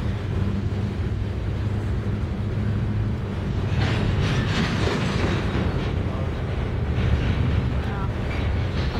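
Freight train of empty cars rolling past at a Springfield, Missouri railside, a loud steady rumble with clattering wheels and wind buffeting the microphone, with someone talking briefly over it.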